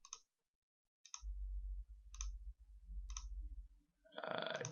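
Computer mouse clicks while using a software drop-down menu, four crisp, evenly spaced clicks, close and quiet over a low hum.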